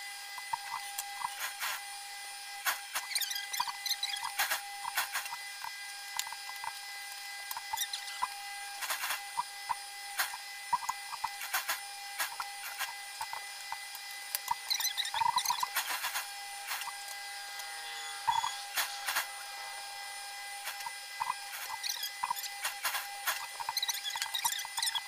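A sewing machine stitches a corset top in a rapid series of ticking, clicking needle strokes, close and fairly steady with brief gaps, with no voices.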